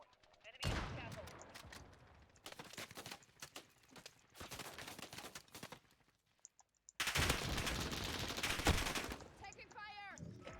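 Bursts of rapid video game gunfire in a multiplayer hardpoint match, loud machine-gun fusillades in several volleys with brief pauses, with game announcer voice lines between them.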